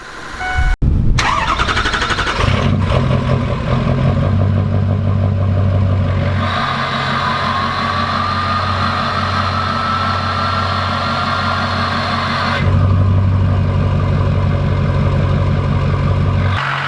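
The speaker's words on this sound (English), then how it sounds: "you could hear it too when you start the truck up" A smoke-switched 6.0 Powerstroke diesel truck cranks, fires and settles into a loud, rumbling idle with a whistling turbo whine that drops away and returns, close up with no talk.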